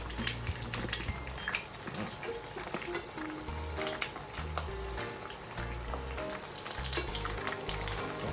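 Several eggs fry together in a pan, a loud continuous sizzle with crackling spits and pops close up, no voices over it.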